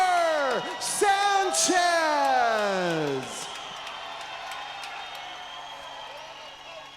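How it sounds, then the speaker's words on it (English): A loud arena crowd at an MMA event in the Maverik Center roars and whoops as fighter Marco Sanchez is introduced, swelling under a drawn-out announcer's voice and then settling into a steady, fainter crowd murmur. "What a pop from the crowd."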